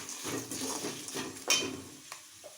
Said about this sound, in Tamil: எல்லாம் போட்டு நல்லா கலக்கிக்கலாங்க